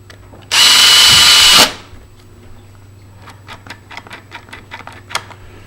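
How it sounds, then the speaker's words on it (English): A power drill gun drives screws into a door passage lever, one loud steady whir lasting about a second, followed by quieter clicking and tapping of handling. "Now I use a drill gun for this, but you can just use a simple Phillips head."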